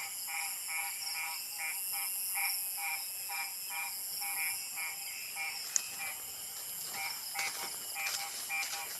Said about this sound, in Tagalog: Iingay ng palaka ah.